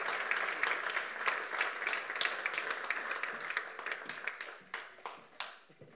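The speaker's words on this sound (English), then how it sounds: "Give Lindsay a little bit of a ripple of applause with you." A church congregation gives a light ripple of applause on a Sunday, scattered hands clapping steadily and then thinning out into a few separate claps near the end.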